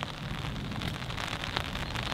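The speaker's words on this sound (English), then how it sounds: "we can see the rain coming down" Steady rain falling on a golf course at Val Andre Golf Club, a dense continuous hiss of drops with a faint patter throughout, heard alone with no talking.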